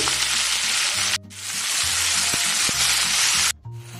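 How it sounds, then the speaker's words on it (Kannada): Tomatoes sizzle in a pan for gongura chutney, a loud steady hiss broken twice by brief silences, with clinks and scrapes of a spatula stirring close by. "ಈಗ ಟೊಮೆಟೊನೂ ಹಾಕಿ 5 ನಿಮಿಷ ಚೆನ್ನಾಗಿ ಫ್ರೈ ಮಾಡ್ಕೊಳ್ಳಿ"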